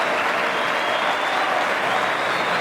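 Applause and joyful cheering from a crowd of beneficiaries at a camp in Lualaba, greeting a charitable act by the province's first lady; a dense, steady wash of clapping with scattered shouts, loud and continuous throughout.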